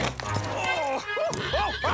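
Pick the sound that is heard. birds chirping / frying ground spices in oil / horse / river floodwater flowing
horse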